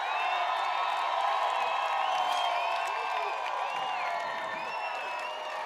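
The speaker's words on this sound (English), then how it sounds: "this Canyons crowd still over there celebrating the strip by Earl English" A football crowd at a Canyons game roars and cheers after a strip, a dense continuous wash of voices and whoops heard from a distance without letting up.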